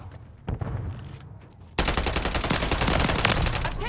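Heavy gunfire in a Call of Duty match, a quiet stretch with one sharp shot before a sudden, sustained wall of dense automatic fire that stays loud and close through the rest.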